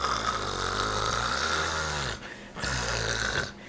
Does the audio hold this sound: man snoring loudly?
yes